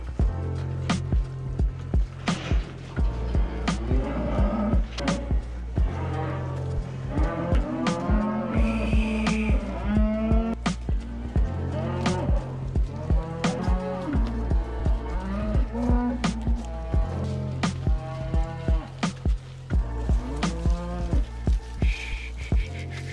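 A group of about 18-month-old cattle, 2020-born calves on a farm, moo repeatedly over a long stretch. The overlapping low calls come from several animals, some close and loud, with clanking farm noise in between and no talking.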